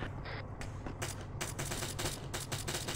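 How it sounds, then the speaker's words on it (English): Gunfire from the military video game Arma 3 on the island of Altis, a burst of rapid sharp cracks in quick succession, loud and fairly close, with no talk. "I'm hearing shots, but not seeing."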